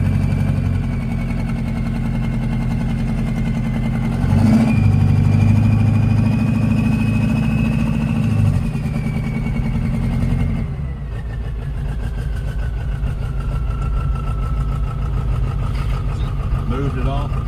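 A Ford 7.3 Powerstroke diesel truck engine idles with a loud, steady low rumble, briefly swelling louder midway before settling again, while people talk over it.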